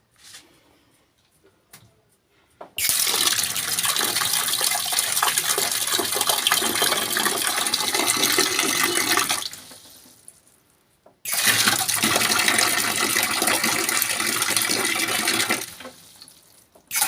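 Water gushes loudly and steadily into an LG top-load automatic washing machine after a part was replaced to fix weak filling, running in two long bursts separated by a brief quiet gap, close and alone.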